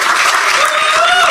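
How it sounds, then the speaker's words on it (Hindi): An audience at a stand-up comedy show claps in a loud burst of close applause while a voice carries over the top. "जम से ताली बजाओ भाई"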